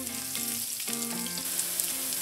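Garlic cloves frying in hot oil for an okra curry give off a steady, close sizzle with a faint crackle, and soft tonal notes run underneath.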